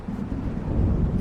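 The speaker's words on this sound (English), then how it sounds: "It seems there's a storm coming." Deep, rumbling thunder from a storm rolling in within the video game Alan Wake Remastered, a brief, loud, low growl that swells slightly over a dark ambient bed.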